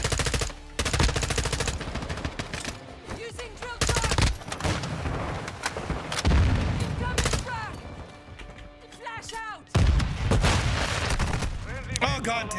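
Gunfire in a Call of Duty match rings out loud and close, sharp single shots mixed with rapid bursts and booms, with a voice talking between them.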